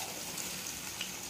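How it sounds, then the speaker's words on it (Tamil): Steady, close sizzling of fenugreek seeds frying in hot oil, a continuous crackling hiss with faint pops, no voices. "இப்போ வெந்தயம் பொரிஞ்சிக்கிட்டு இருக்கு"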